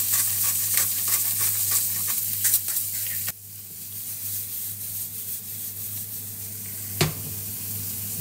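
Chopped onions with a pinch of salt sizzle steadily in a hot pan for beef stroganoff, a broad continuous hiss with a few stirring scrapes near the start and one sharp knock later, close and fairly loud, with no voices.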